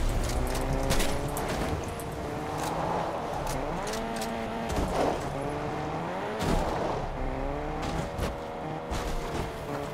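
Vehicle driving in Fortnite, a steady engine drone with shifting pitch and scattered sharp bangs over it, fairly loud and continuous without talk.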